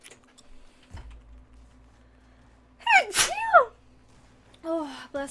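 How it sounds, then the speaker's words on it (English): A single sharp human sneeze with an audible intake of breath just before it, close to the microphone in a quiet room, followed moments later by a short vocal sound, with faint clicks earlier. "that's the 3rd time this stream that I've sneezed"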